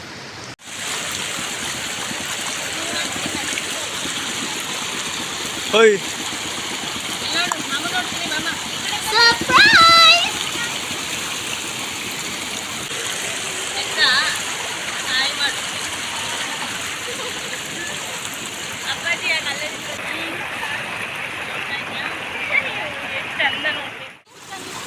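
Haluvagilu waterfall and stream at a check dam near Hassan: a steady, full rush of flowing water runs throughout, with voices talking and calling out over it.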